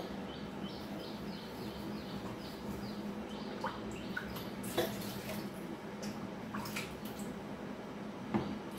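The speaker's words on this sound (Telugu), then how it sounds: "నేను ఫస్ట్ అయితే ఈ చింతపండు కడిగి నానబెట్టేసుకుంటాను నీళ్ళు పోసి." Tamarind is washed in a bowl of water for a sour taro (chamagadda) curry, giving faint, quiet drips and soft squishing, with birds chirping in the background.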